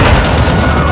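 In a Call of Duty Modern Warfare 2 campaign battle at a gate, an RPG explosion hits as a very loud, brief, saturated boom with a dense, low rumble.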